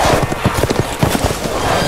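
Horse hooves clip-clop in the video game Resident Evil Village, a quick, close, steady run of hoofbeats heard alone for about two seconds.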